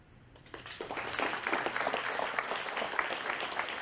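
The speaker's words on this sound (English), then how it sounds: "We give another round of applause for him." Audience applause at a high school bass fishing team banquet, a dense crowd of clapping that swells in after a quiet start and holds steady.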